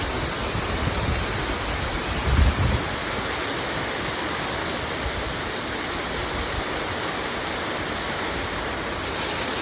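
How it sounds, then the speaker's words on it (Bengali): Heavy rain pours down in a dense, steady roar of hiss, with one brief low thump early on and no voices. "প্রচুর বৃষ্টি হচ্ছে, প্রচুর।"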